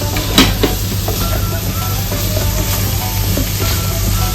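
Prawns sizzle as they go into frying onion masala in a pan, a loud, continuous hiss and crackle with occasional stirring clinks, and no voices.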